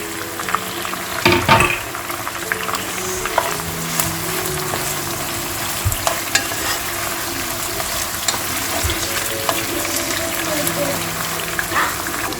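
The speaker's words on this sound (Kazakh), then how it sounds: "Ет қуырылып жатыр, пиязымызды қосамыз." Meat fries in a pan with a steady sizzle, a continuous crackling hiss with occasional clinks of utensils, fairly close.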